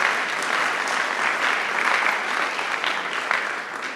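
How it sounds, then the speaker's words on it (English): A room full of people claps steadily in a sustained, even round of applause, dense and close, with no voices standing out. "Right there is a round of applause for this community and its investment."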